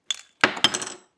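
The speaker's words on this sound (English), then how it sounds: "You just take the included wrench and then you turn clockwise" Small metallic clinks and a light scraping as the included wrench grips and turns the piston mechanism of a TWSBI Eco fountain pen, a few close, crisp taps within about a second.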